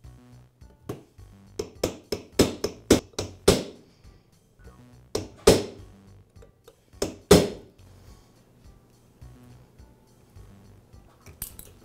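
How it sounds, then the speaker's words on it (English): Metal punch tapped with a hammer to drive out the flywheel key on an Echo string trimmer, a series of sharp, close metallic clinks in quick bursts with pauses between, alone in a quiet room. "I'll use a punch to remove the key."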